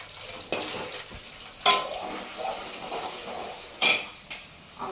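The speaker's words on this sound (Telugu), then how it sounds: "ఇక్కడ కొంచెం పులిహోర కోసం అని చెప్పేసి పోపు వేస్తాను" Spices tempering in hot oil in a pan for pulihora (tamarind rice), a steady sizzle with a few sharp clatters of a utensil against the pan.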